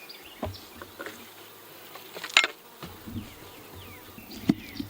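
Honey bees swarm around an open hive during a honey harvest, their steady insect drone humming faintly throughout, broken by a few close wingbeat passes and small knocks.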